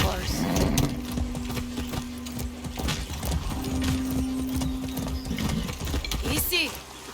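A horse in the video game Far Cry 6 moves with clip-clop hoof sounds and a snorting whinny, mixed with game effects and someone talking over it.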